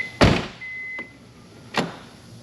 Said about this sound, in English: seat belt comes up.